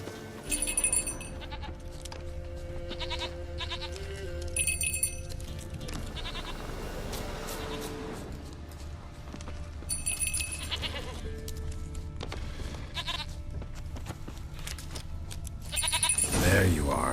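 A goat bleats repeatedly in The Witcher III: Wild Hunt, several distinct bleats spread across a steady game ambience, with a voice speaking in between.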